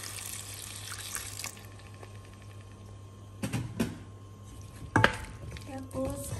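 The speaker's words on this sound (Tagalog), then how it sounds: "Tapos lagyan natin ng konting tubig." Water from a tap runs into a cooking pot while vegetables with fish sauce are being cooked, brief faint pouring followed by clinks of pots and utensils in a quiet kitchen.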